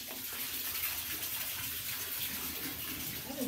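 Water pours into an ice bath tub, a steady rushing splash of filling water, loud and close, continuous with no talking over it.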